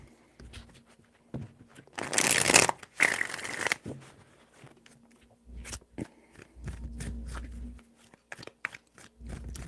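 Tarot cards being shuffled, a couple of quick, crisp riffling bursts close up, followed by soft, faint handling rustles and taps in a quiet room.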